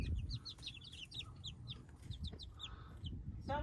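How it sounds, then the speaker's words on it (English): Young chickens on a farm cluck and peep in a steady, busy chorus of short chirping calls, close by at moderate volume over a faint rustling background. "Look how beautiful the farm on Route 66 chicks have gotten."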